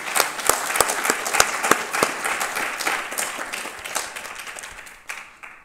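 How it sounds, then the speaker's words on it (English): A crowd at an MLK celebration applauds the Aspire participants, crisp individual claps within a loud burst that gradually thins and fades away at the end. "Please join me in giving them one more round of applause for Aspire."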